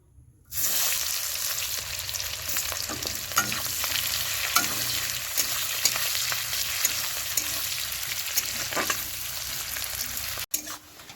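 Sliced onions hit hot oil and sizzle loudly and continuously in a pan, with the scrape and clatter of a spoon stirring them at irregular intervals before the sound cuts off abruptly.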